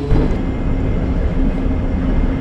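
An airport people mover train departs a station with a loud, steady low rumble and a hum of running gear. The noise continues without a break, with no voices over it.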